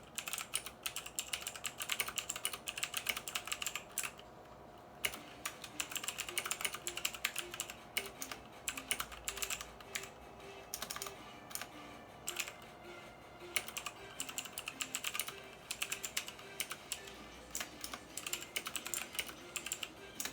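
Steady, fast clicking of a Motospeed CK62 mechanical keyboard with Outemu Blue switches, keystrokes tapping continuously and close-up with only brief pauses.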